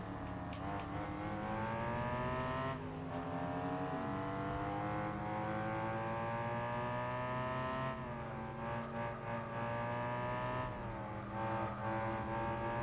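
A Mercedes racing car engine in a video game roars continuously, its pitch climbing through gear shifts with brief dips between, loud and steady with no talking.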